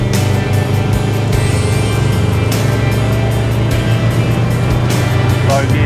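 A Polaris RZR off-road vehicle, joystick-driven on a 4WD track, creeps down a steep hill in low gear, its engine a steady close, loud drone with a constant low hum and no break.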